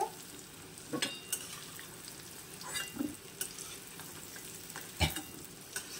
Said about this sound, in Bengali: ওলগুলো এখানে হালকা ভাজা হয়ে গেছে